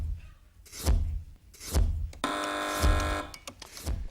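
A studio quiz show buzzer gives a steady electronic tone lasting nearly a second, and other thuds and knocks sound around it in a TV studio during a news quiz round.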